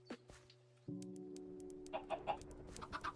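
Chickens clucking in a video game, where eggs from a dispenser hatch into chickens: several short clucks and squawks come over a steady low hum and faint tones, fairly quiet overall.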